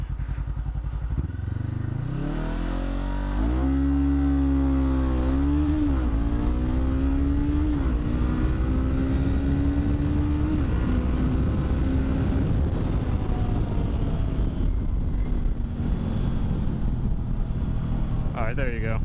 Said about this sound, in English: let's go ahead and get another 0 to 60 right here